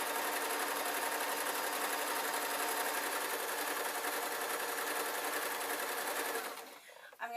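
Sewing machine stitching a small earphone case, one steady, loud, continuous run of fast stitching that stops abruptly near the end.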